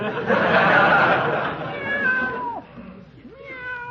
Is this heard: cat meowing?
yes